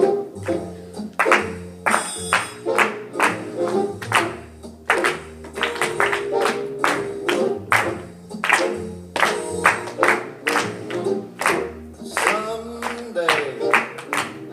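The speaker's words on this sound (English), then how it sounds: "Go ahead and clap for the syncopated rhythm." Students clap a syncopated rhythm in a general music class, producing crisp, evenly loud claps in an uneven, off-beat pattern that repeats steadily throughout, over a ringing tonal backdrop.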